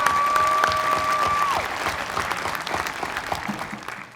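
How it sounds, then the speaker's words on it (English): Graduates and guests at a 2021 Carnegie Mellon undergraduate commencement applaud warmly, steady clapping that holds for a few seconds and then thins and fades toward the end. "Please join me in giving her a warm round of applause"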